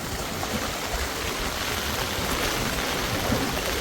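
Rushing village floodwater with strong pressure: a dense, continuous roar of churning water, loud and close and unchanging throughout, with no voices.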